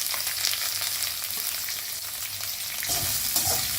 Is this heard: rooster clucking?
no